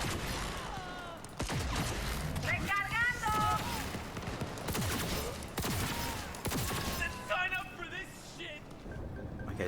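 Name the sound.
gunfight in Cyberpunk video game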